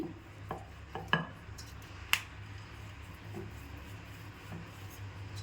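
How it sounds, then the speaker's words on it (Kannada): A rolling pin works oiled puri dough on a board, giving soft rubbing strokes with a few sharp taps and clicks scattered through, close and fairly quiet. "ನಾನು ಎಣ್ಣೆಯನ್ನು ಸವರ್ಕೊಂಡು ಲಟ್ಟಿಸ್ತಿದ್ದೀನಿ"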